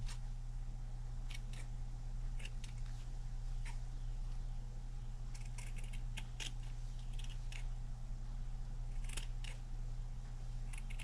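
Scissors trimming stray strings and bits of backing off a handmade shabby fabric banner, heard as faint, scattered snips over a steady low hum with no talk.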